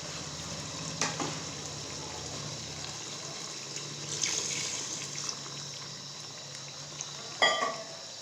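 Water is added to a pan of chicken karahi, giving a quiet, steady sizzle and bubbling with a few brief clinks and splashes near the end.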